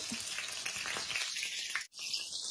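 Chicken being refried in a pan because it was still undercooked inside, giving a steady, fairly loud broadband sizzle and crackle that cuts out abruptly near the end before resuming. No one speaks.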